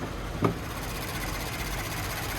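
A 3.5-liter twin-turbocharged V6 in a 2025 Ford Transit 150 conversion van runs at a steady, even hum, with a brief thump near the start, heard up close and without talk.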